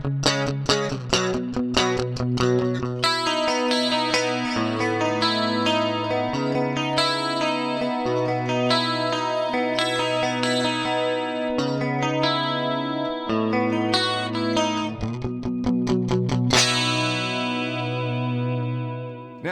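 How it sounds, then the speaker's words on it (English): Clean Rockman X100-style electric guitar tone run through a Fractal unit with 200 and 240 millisecond dual delays and cross feedback, playing a steady picked chord and melody line wrapped in a wide, reverb-like echo wash, loud and alone throughout. "200 and 240 millisecond dual delay with some cross feedback for like a reverb style echo effect"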